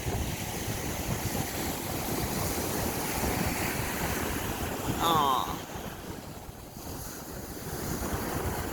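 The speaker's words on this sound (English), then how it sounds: "It's just the ocean." Ocean surf washing onto a beach, a steady broad roar of breaking waves with wind buffeting the microphone, a seagull cry and a brief spoken exclamation partway through.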